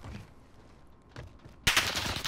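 Gunfire in the video game Warzone: quiet distant shots at first, then a loud, sudden burst of rapid fire in the final second.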